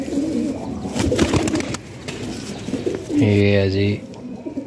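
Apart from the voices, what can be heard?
fancy pigeons cooing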